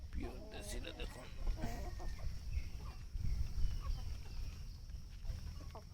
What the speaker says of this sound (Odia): କୁକୁଡ଼ାମାନେ ଦେଖନ୍ତୁ ଏଇଟା ଦାନା ଦେଇଛି, ଖାଉଛନ୍ତି ଦାନା।